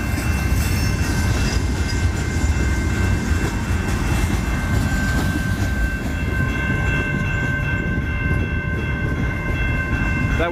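A westbound CN freight train rumbles steadily past on the rails in Michigan, loud and close, with a continuous heavy roar and faint high tonal whine throughout.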